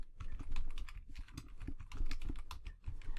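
Steady rapid typing on a computer keyboard, close and clear, with uneven bursts of key clicks and no talking.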